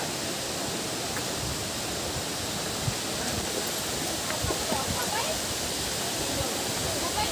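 Handibhanga waterfall near Handibhanga village in Keonjhar roars as a steady, dense wash of falling water that fills the whole scene, with faint splashes and no pause.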